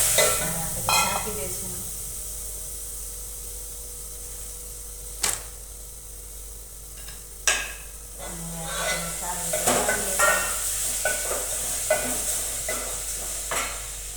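Homegrown desi tomatoes fry in a pan for a Gujarati vegetable curry, giving a steady soft sizzle broken by repeated scraping stirs and occasional clinks of the utensil against the pan.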